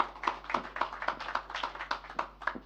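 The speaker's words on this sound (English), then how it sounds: "a round of applause for his opening remarks." Scattered, moderate applause from a small crowd at a stock exchange listing ceremony, steady rhythmic claps continuing for a few seconds without talk.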